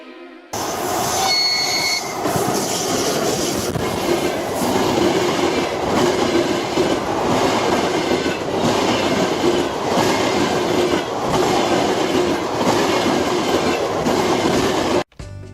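A train runs along the rails in a long, steady rumble with clickety-clack wheel rhythm and occasional squeals, loud and close throughout, with no voices until a brief cutoff at the end.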